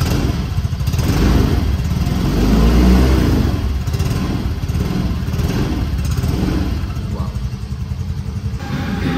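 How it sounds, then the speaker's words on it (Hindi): A 2023 Yamaha Fascino scooter, an E20-compatible model, idles close by with a steady low engine hum and a few throttle swells, running alone without talk. "तो इसके बाद एक बार स्कूटर का जो साउंड है उसको एक बार सुन लेते हैं।"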